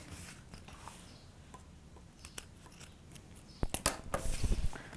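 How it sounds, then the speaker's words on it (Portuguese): Scissors snip off the excess length of a zipper while finishing a craft book folder, producing a few quiet cuts and rustles that grow louder near the end. "Tiro o excesso do zíper."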